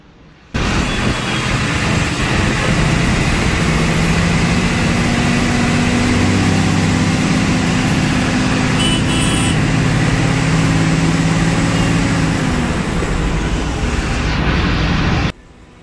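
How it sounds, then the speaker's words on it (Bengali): A Mercedes bus engine roars loud and close at high revs, its turbo whine riding over a constant heavy low rumble that starts abruptly and holds steady for about fifteen seconds before cutting off. "সাউন্ডটা একটু বেশি এই বাসগুলোর, যেহেতু টার্বো রয়েছে, তো টার্বো সাউন্ডের কারণে আওয়াজটা বেশি শোনা যাচ্ছে।"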